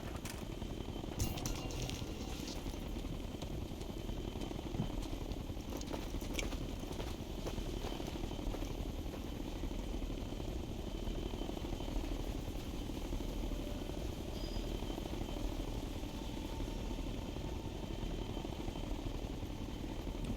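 A helicopter in the Ghost Recon Future Soldier video game thrums steadily throughout, a continuous rotor and engine drone at constant level with a few faint clicks, no talking.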